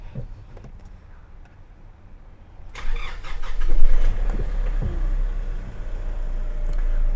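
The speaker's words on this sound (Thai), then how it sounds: "เดี๋ยวขออนุญาตสตาร์ท ให้ทุกท่านได้ยินเสียงของเครื่องยนต์กันชัดๆเลยค่ะ" A car engine cranks and catches after a quiet start, then settles into a steady loud running hum, close by.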